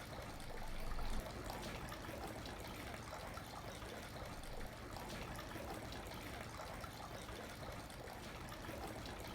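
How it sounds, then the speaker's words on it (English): Water poured from a ladle at a Shinto shrine purification basin trickles and splashes steadily, a soft continuous stream at moderate distance with no voices. "Take the ladle with your right hand, fill it with water, and wash your left hand."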